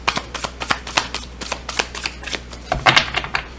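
Tarot or oracle cards are shuffled by hand in a steady run of soft riffling flicks and slaps, close and clear, with no talking.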